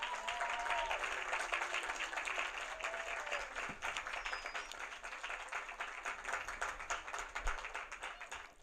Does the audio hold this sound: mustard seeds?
no